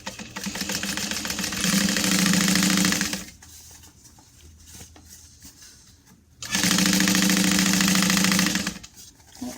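Two bursts of close sewing machine stitching, each about three seconds long, as a quarter-inch seam runs around the sides of a pocket piece, with a quieter pause of fabric handling between them.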